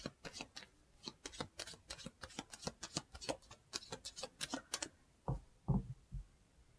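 Romance angel oracle cards are shuffled by hand in a fast run of crisp, quiet riffling clicks, followed by a few softer thumps as the deck settles.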